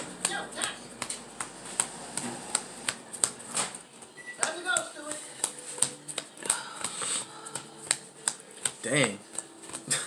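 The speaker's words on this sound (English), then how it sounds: "I'm gonna power shuffle real quick." Power shuffling of a 60-card Yu-Gi-Oh deck gives repeated crisp snapping riffles of cards, quick irregular clicks close to the microphone, with a person talking intermittently.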